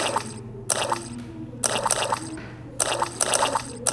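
Repeated splashing in muddy puddles from the Peppa Pig cartoon, three bursts of wet slapping splashes in quick succession, close and fairly loud, with no talking.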